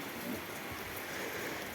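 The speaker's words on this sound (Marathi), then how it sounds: "एकदम रिमझिम आपण अंगणामध्ये ज्या प्रकारे पाणी मारतो अशा प्रकारचा पाऊस आमच्याकडे कालपासून सुरू झालेला आहे" Light drizzling rain from the first rain of June at a goat farm, a soft, steady hiss of fine drops that is faint and continuous throughout the short stretch.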